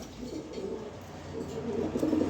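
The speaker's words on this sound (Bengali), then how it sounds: "এই দেখেন কবুতর জোড়া এই রাখা" Soft, low coos of racing pigeons repeat faintly over a muffled background hum, with no talking.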